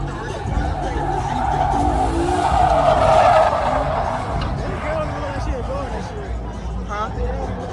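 A V6 car does a burnout at a legal pit in South Carolina, its engine roaring and tires squealing loudly and continuously while a crowd chatters nearby.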